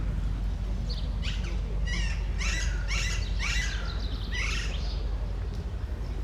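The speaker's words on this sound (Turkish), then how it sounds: "bakın sesini duyduğunuz şey papağan" Parrots call from above an old Istanbul street, sounding a burst of shrill, squawking chirps over a few seconds against a steady hum of outdoor traffic and city noise.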